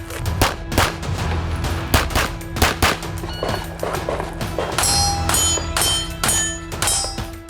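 Sharp gunshots crack out one after another at a competitive shooting match, some close and loud, others quicker and fainter, with a few echoing bursts in the later part.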